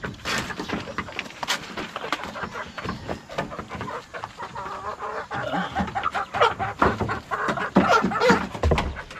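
Chickens and young chicks cluck and chirp busily around a Filipino backyard, a continuous loud jumble of fowl calls with occasional louder squawks throughout.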